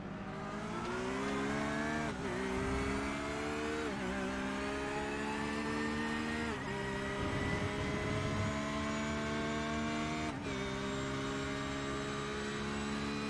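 Valkyrie XI GT3 race car engine in a sim racing game: a loud, steady high-revving engine tone climbing through the gears, with brief dips at each upshift and no talk.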